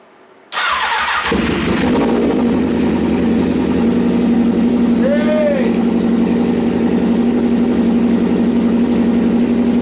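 Honda CBR 1000F motorcycle firing up after sitting unused for seven years, catching abruptly and then settling into a loud, steady close-up idle with a brief rev-like swell partway through.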